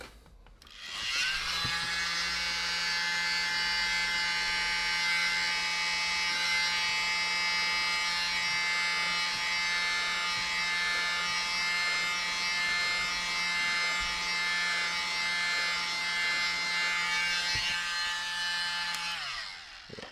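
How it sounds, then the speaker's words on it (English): A small handheld mini blower runs continuously for about twenty seconds with a steady, loud, high-pitched motor whine, used on acrylic pour paint with cell activator. "grab my little mini blower"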